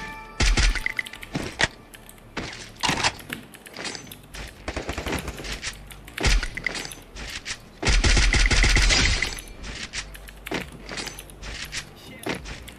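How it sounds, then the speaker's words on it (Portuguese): Gunfire in the Free Fire battle-royale video game: rapid automatic bursts and single shots crackle repeatedly through the passage, with a sustained loud volley near the middle, under a player's casual talk. "É tipo Black, vou botar a cara pra trocar tiro"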